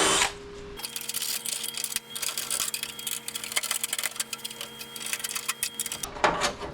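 A power drill bores out a spot weld on a right-hand-drive Nissan 240SX S14 body panel, a close, continuous whirring grind with small clicks and bumps, starting and stopping abruptly.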